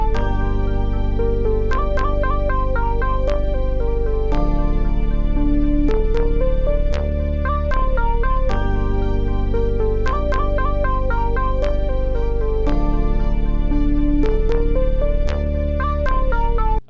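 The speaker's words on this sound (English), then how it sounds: "this is what our melody is going to sound like" A bright synth lead plays a steady melody over sustained chords and bass, looping continuously without pause.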